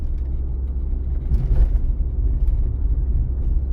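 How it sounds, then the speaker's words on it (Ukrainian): Car cruising in third gear at 50 km/h through a city on a driving-test route, a steady close low engine and road rumble with a brief swell in the middle and no talking. "У мене зараз третя передача і швидкість 50 км на годину."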